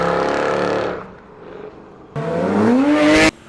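Ferrari sports car engine: a loud, close revving burst that fades, then a second sharper rev climbing in pitch before cutting off abruptly.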